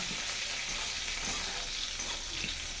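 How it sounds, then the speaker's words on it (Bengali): Green chillies fry in hot oil, giving a dense, steady close sizzle with faint crackling pops and stirring, and no talk. "এখন দেখো চড়াক চড়াক করে ফুটবে তার সঙ্গে কাঁচা লঙ্কাটাও দিলে কিন্তু খুব সুন্দর গন্ধ বেরোয়"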